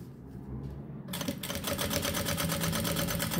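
A sewing machine stitches a seam close to the zipper teeth on a pochete, starting after a quiet moment and running in a fast, steady, loud rhythmic chatter to the end.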